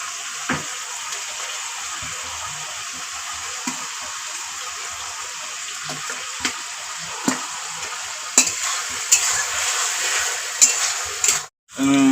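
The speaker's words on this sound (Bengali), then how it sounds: "এখন ভেজে রাখা আলুগুলো দিয়ে দিব" Spiced goat meat curry fries in a pan as fried potatoes are added: a moderate sizzle runs throughout, broken by occasional stirring clacks and scrapes, with a brief sharp drop near the end.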